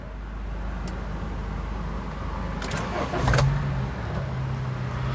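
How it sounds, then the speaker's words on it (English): A Honda CR-V from around 2012–2014 cranks with a brief whir, then its engine catches and settles into a low, steady idle close by. "So let's start the car."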